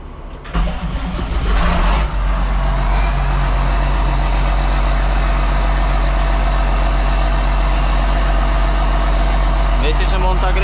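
A John Deere 6920 tractor engine cranks and fires up, then settles into a loud, steady, close-up diesel run with a deep low rumble and continuous mechanical drone, a voice briefly heard near the start.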